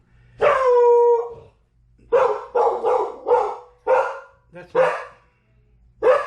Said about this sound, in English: That's my wonder dog, Reagan.